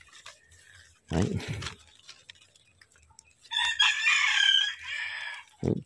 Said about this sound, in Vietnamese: Tiếng gà gáy gọi bạn tình đấy.